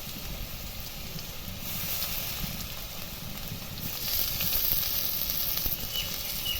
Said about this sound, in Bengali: পেঁয়াজটা ভালোভাবে লাল লাল হয়ে গেছে এ দেখুন খুব সুন্দর ভাজা হয়ে গেছে এবার দেব আদা রসুন বাটা